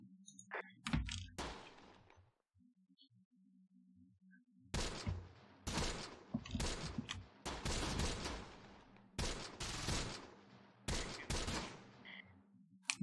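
Gunfire from units in the WWII tactics game Close Combat: The Bloody First, several loud, ragged volleys and single sharp shots separated by quiet gaps, with a low steady hum beneath and no talk.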